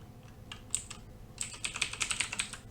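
Commands being typed on a computer keyboard: a few scattered key taps, then a quick burst of rapid, close clicking.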